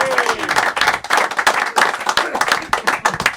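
An audience gives a round of applause, dense, fast clapping from many hands that stays steady and close throughout.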